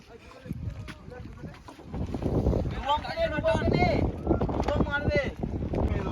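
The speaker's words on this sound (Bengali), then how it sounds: "আমাদের নৌকা ছেড়ে দেওয়া হয়েছে" A boat pushing off on a river near the Uluberia Ras fair, with rushing wind and water noise building steadily as people talk aboard.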